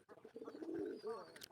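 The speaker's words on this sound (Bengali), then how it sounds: "আপনারা দেখেন আমার কবুতরগুলো কিভাবে ভাত খাচ্ছে" Domestic pigeons feeding on leftover rice give soft, close, rolling coos in a short burst with no voices.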